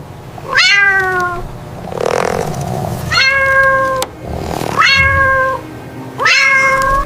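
Four drawn-out meows from a cat, each rising then falling, spaced a second or two apart, with breathy huffing noises between them.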